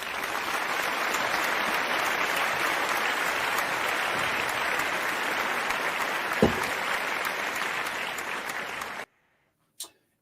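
A small crowd claps steadily for about nine seconds at a generous charity gathering, then the applause stops abruptly, followed by a brief click.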